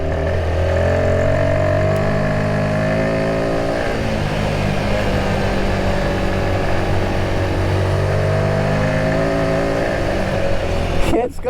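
A Royal Enfield Himalayan 450 motorcycle engine pulls hard, its loud, steady drone rising and falling in pitch as the rider accelerates through corners, with wind noise in the background.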